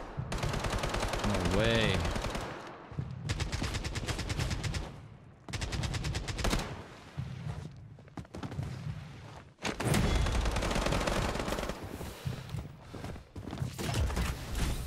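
Rapid automatic gunfire in the shooter game Blood Strike rattles in dense bursts with brief pauses over about fifteen seconds, loud and close, while a voice briefly speaks.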